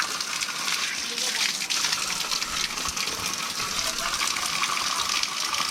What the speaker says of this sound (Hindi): ये जो है नेचुरली पानी है जो कि पहाड़ों से आ रहा है, एकदम शुद्ध पानी और ठंडा।